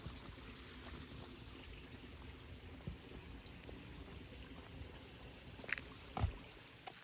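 Stream water flows steadily at Ban Na Ang waterfall, a low, continuous wash of running water over rock slabs after two creeks merge, fairly faint and even, with a couple of brief knocks near the end.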